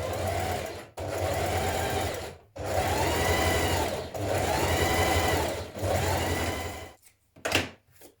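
A sewing machine runs shirring stitches across a blouse front in loud whirring bursts with brief pauses between them, ending in a few short mechanical clunks.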